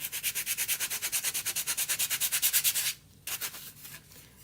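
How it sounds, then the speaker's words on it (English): Sandpaper rubs over a chalk-decorated pumpkin in quick regular back-and-forth strokes, loud and close, then stops briefly before a few slower, scattered strokes follow. "We're gonna see if a little bit of sanding helps."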